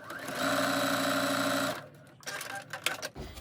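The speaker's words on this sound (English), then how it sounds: "And I've also just stitched that fabric down." Close sewing machine stitching down fabric on a fabric postcard: a steady humming run of stitches for over a second, then stops, followed by quieter handling clicks and rustles.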